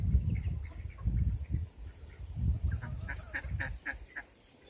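A nesting duck honks and calls repeatedly outdoors, loud low squawks at first and then quicker, higher calls toward the end, with no talking.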